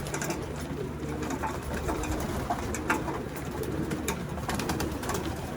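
Pigeons coo in a low, steady rumble close by, with soft fluttering and scattered bird sounds over a constant background.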